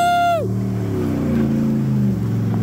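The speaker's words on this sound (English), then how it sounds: "Man, that truck sounds good." A pickup truck with a 5.4 engine revving in snow, a loud close engine roar whose pitch sweeps down and then holds a rumbling drone, starting after a short high whine.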